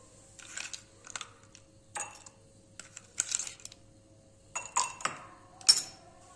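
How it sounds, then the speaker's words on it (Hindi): Two or three ice cubes dropped into a glass tumbler, making a series of sharp, separate clinks spread over several seconds, close and clear against a quiet background. "और इसमें 2-3 डाल देंगे आइस क्यूब।"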